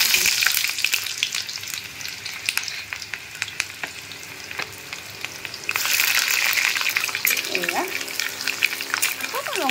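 Onions frying in hot oil with cumin seeds in a pan, a continuous close sizzle with intermittent stirring and scraping, swelling louder partway through, with a brief voice near the end.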